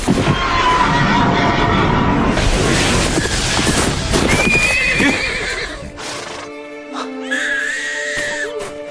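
Horses neigh loudly in a dramatic historical battle scene, whinnies rising over a dense rush of galloping hooves and clatter, then a second sharp neigh after a brief lull, all loud and close.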